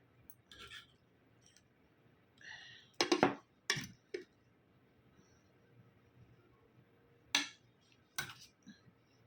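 Cutlery clinks against a plate as someone starts a meal of rice and boiled greens, with a few sharp scrapes and taps spaced irregularly over a quiet room.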